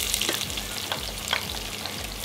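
Cinnamon, cardamom and cloves fry in hot oil for mutton bunny chow, a soft steady sizzle with a few crackling pops and light stirring scrapes, fairly quiet and without talk.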